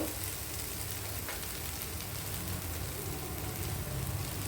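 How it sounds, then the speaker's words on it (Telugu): Tomato puree frying in a pan while making bagara rice, a steady close sizzle and crackle running without a break and with no talking. "ఇప్పుడు టమాటో అయితే మనకి పచ్చివాసన పోయేంత వరకు వేగిపోయిందండి"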